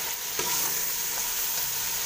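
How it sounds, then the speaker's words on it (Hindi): Masala of tomatoes roasting in a pan for malai aloo gobi, a continuous close sizzle with a brief stirring scrape near the start. "अच्छी तरह इसको भून लेंगे। ये देखिए यहाँ पर ये मसाला भून के तैयार हो चुका है।"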